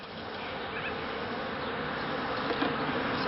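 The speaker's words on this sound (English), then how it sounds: "So we have a fair few bees left in here, and we don't really want to upset them too much" Dense, steady buzzing of many honey bees being nudged from a catching box into a proper hive, a continuous close swarm hum with no talking.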